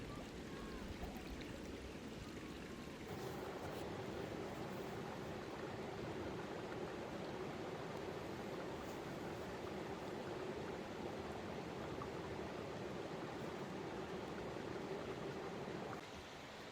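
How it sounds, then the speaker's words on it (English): Steady rain falls outdoors on a hot summer day near a river, a dense continuous hiss holding evenly from start to finish with no voices. "It's actually raining"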